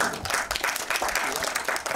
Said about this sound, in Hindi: एक बार जोरदार तालियां पूरी टीम।